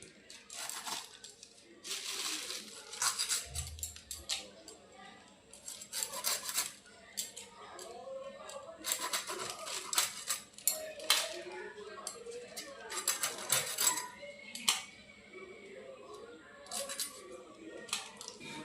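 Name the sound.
knife cutting cleaned fish into pieces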